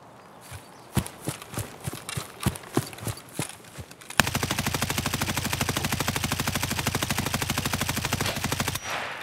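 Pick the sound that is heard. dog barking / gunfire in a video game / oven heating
gunfire in a video game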